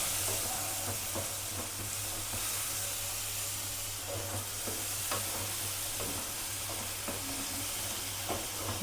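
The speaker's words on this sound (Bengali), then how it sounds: "এবার এর মধ্যে একটুখানি হালকা জল দেবো" Spiced masala for an egg curry gravy sizzles and steams in a pan as a little water goes in, a steady frying hiss with scraping stirring strokes throughout, no voices.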